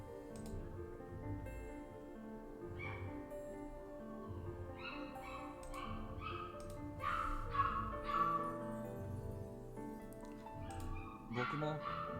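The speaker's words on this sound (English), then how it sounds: "sorry if you could hear my neighbor's music and another neighbor's dog barking right now" A neighbor's dog barks and yips faintly from another apartment, short scattered barks and whimpers in the distance under a low background of neighbor's music and faint talk.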